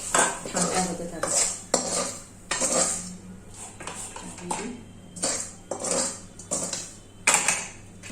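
Modak coconut filling scraped from a pan onto a metal plate, with clattering metal-on-metal knocks and scrapes of a spoon in uneven bursts, close and fairly loud, no talk.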